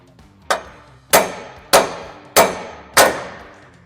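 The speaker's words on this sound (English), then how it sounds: "it's going to be way easier to use a pickle fork" Five loud metallic hammer strikes on a pickle fork driven in to break a steering taper loose on a Dodge Ram 2500/3500, evenly spaced about half a second apart, each ringing briefly, no talking.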